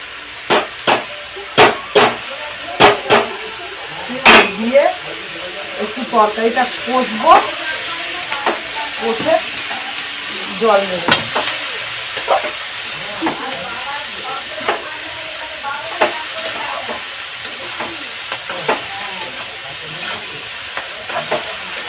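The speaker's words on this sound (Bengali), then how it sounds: "এবার এই চিংড়ি মাছটা দিয়ে দেবো ভাজা চিংড়ি মাছটা" Prawns fry in a pan seasoned with salt, chilli and turmeric, with a continuous sizzle beneath repeated sharp knocks and scrapes of a spatula against the pan, close and fairly loud, with some faint talk in the background.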